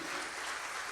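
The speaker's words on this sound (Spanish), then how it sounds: "Denle un aplauso a esta palabra de victoria." A church congregation claps during a sermon, a thick, even wash of applause that holds steadily at full strength for the whole second.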